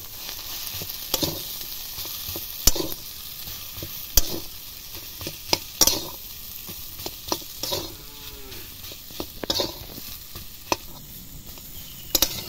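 Potato filling stirred in a pan with salt, turmeric, chilli powder and green chillies, a sizzling bed broken by sharp, irregular spoon scrapes and knocks against the pan, close and loud.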